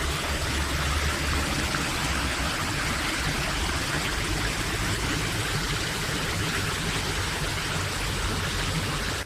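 A river flows beside a resort spa in Lembang, making a steady, continuous rushing wash that stays even throughout, with no voices.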